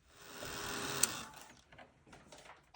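A handheld dryer runs on a freshly painted coat with a steady broadband whir that rises and then tapers off over a few seconds, ending with a brief click.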